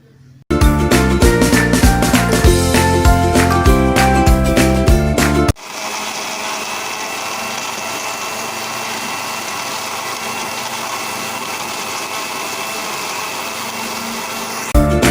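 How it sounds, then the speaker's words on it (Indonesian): Kitchen blender grinding spice paste for oven-baked chicken, a loud steady whirring drone running for about nine seconds after a stretch of music, then cutting off. "Nah, ini dia bahan-bahan yang akan kita blender dulu ya Bunda."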